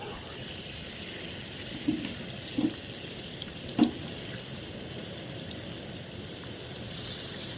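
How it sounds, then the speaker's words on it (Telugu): Masala-coated fish frying in oil, a steady quiet sizzle broken by a few soft pops and clinks, close and continuous, no talking. "ఆయిల్ వేసాను, మొత్తం వేపుతున్నాను."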